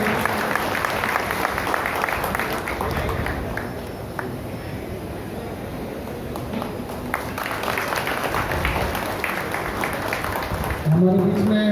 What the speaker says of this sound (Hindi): सभी लोग तालियों के गूंज में स्वागत कीजिए।